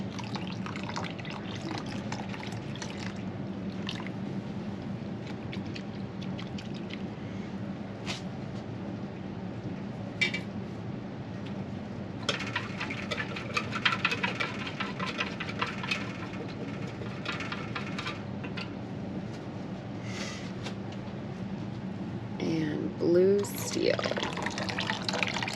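Water runs and drips into a pan used for dyeing yarn, a steady close trickle throughout with occasional splashes, partly under a person talking.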